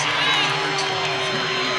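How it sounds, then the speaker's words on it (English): A basketball arena crowd at an NCAA women's tournament game between UNLV and Arizona roars in a steady, dense wash of cheering, with voices talking over it. "Arizona has got the crowd into it."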